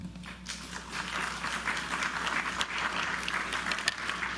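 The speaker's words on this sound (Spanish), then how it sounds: "Lo recibimos con un fuerte aplauso" Audience at an academic congress clapping to welcome a speaker, a modest, fairly soft patter of hands from a small room, steady for a few seconds with a faint hum underneath.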